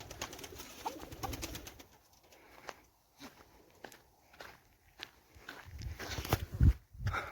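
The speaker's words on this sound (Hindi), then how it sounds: "ये देखिए कबूतर भी हमारे हैं और मुर्गी हैं" Soft pigeon coos and wing flutters close by, with scattered shuffling footsteps and light rustling around them.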